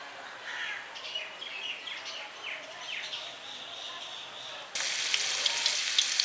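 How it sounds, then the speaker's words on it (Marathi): Garlic cloves fry in hot oil in a home kitchen while pickle is being made, a soft steady sizzle with faint crackles that jumps suddenly to a louder, brighter hiss partway through. "तेल गरम करून त्याच्यामध्ये हे लसूणच्या पाकळ्या आहेत या थोड्याशा ब्राऊन होईपर्यंत शिजवून घ्यायचे"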